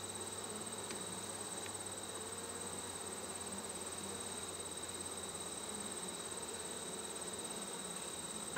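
A dense, steady buzz of many honey bees in an open hive hums close by, continuous and even, with no talking.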